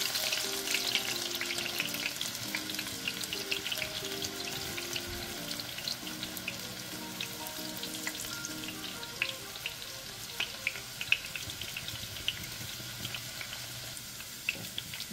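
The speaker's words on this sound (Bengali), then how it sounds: "মাঝারি আঁচে আমি এখন পেঁয়াজগুলোকে দিয়ে দেবো।" Sliced onions fry in oil over medium heat with a soft, continuous hiss and light crackle, fairly faint and close, with a few small clinks.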